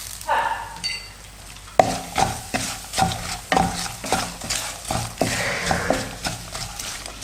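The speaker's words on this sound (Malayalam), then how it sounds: "മുളക് പൊടി മൂത്ത് കഴിഞ്ഞു." Chili powder is sautéed in a pan for kadala curry, with a spoon scraping and stirring in repeated strokes over light frying, after a quieter opening.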